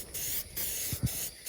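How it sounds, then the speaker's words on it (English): Adhesion promoter sprays from an aerosol can onto a car door panel in three short hissing bursts, faint and close, with brief pauses between them. "I'm going to spray this adhesion promoter."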